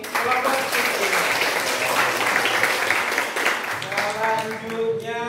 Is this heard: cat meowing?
no